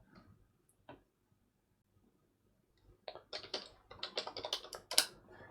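Password being typed on a computer keyboard at an Ubuntu server login prompt. One isolated key press comes first, then a quick, close burst of key clicks toward the end in an otherwise quiet room.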